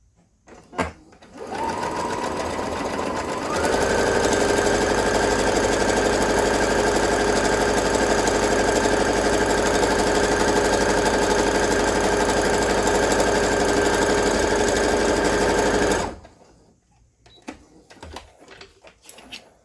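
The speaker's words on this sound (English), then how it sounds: "get your sewing machine and sew down this side" A sewing machine stitches steadily along the edge of a Dollar Tree scarf being made into a headband, a loud continuous whirring hum running for about twelve seconds before stopping.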